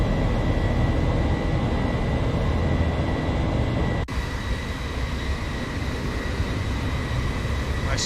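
A Boeing 737-800 in the X-Plane 11 flight simulator climbs out after takeoff from Atlanta. A steady, loud broadband engine roar holds throughout, dipping briefly at about the midpoint before resuming at a similar level.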